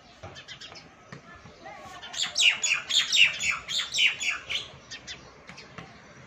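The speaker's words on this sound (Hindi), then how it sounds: "यहाँ पे एक्चुअली चिड़िया ना नेस्ट बना रखा है इधर ऊपर, और बहुत सारी स्पैरोज आ जाती हैं" Sparrows near a nest at a home in Himachal Pradesh give a burst of sharp rapid chirps and squawks, loud in the middle and softer at either end, with faint talk in the background.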